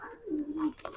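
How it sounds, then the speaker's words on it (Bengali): A tippler pigeon gives a single short, close coo, faint and low, lasting about a second amid slight background noise. "টিপলার পায়রা।"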